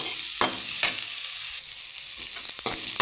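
Drumsticks fry in a pan for a curry, a steady close sizzle broken by a few sharp stirring scrapes against the pan.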